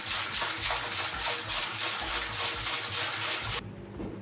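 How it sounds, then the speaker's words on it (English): Distilled water poured into a medical sterilizer in a strong, continuous gushing stream, loud and close, ending abruptly near the end as the pour stops and a faint residual trickle remains. "I'll open it and I'll pour in water up to the mark that I showed you earlier on."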